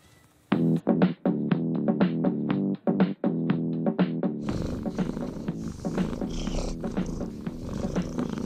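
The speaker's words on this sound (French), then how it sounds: "le côté positif d'avoir un chat c'est quand il ronronne" A domestic cat purrs loudly and close up in a steady rhythmic rumble, with a few short pauses early on, then the purring continues under a busier background.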